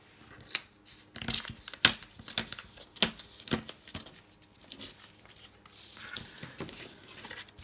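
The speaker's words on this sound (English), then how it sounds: "I'm just going to tear around" Paper tears along the edge of a We Are Memory Keepers ruler in short, crisp rips and crackles, close and fairly quiet, with small pauses between pulls.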